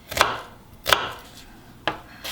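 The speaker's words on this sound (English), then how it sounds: "So we're gonna just chop all our shallot and dill and celery" A knife chops through shallot, dill and celery on a cutting board in a home kitchen, three or four distinct, crisp strokes spaced well apart, close and clear with no talking.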